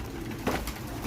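A racing pigeon, one of a loft of four-to-five-month-old birds, gives a single soft coo close by in a brief quiet moment.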